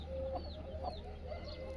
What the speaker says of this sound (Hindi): तो कड़कनाथ मुर्गी है ये